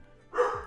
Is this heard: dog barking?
yes